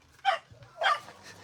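Puppies at feeding time let out a few short, sharp yips and barks, spaced about half a second apart, fairly close but not loud.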